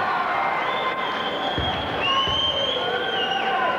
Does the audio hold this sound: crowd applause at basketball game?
yes